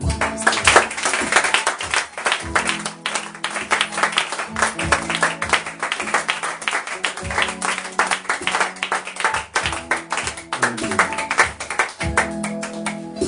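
A church congregation claps along during a Sunday worship service, with dense, steady applause running throughout, layered over sustained music and occasional voices.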